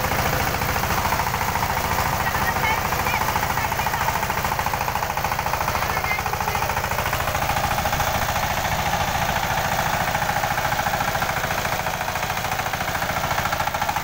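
A tractor engine runs steadily while the machine turns, a continuous rattling, knocking mechanical drone held at constant loudness throughout, close by with no talk over it.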